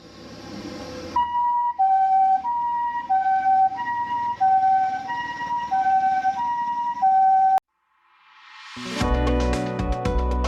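A wailing ambulance siren cycles through a steady two-tone pattern, loud and close, then cuts off abruptly and is followed by a sudden burst of loud, layered music.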